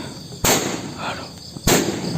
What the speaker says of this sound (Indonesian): Di sana terjadi ledakan.